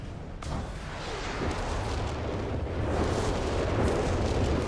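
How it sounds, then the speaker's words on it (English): A rocket artillery volley in Company of Heroes 3 lands on an enemy base with a rolling string of heavy booms and rumbling blasts that swell louder toward the end, with no voices over them. "Massive rockets there, making massive impacts"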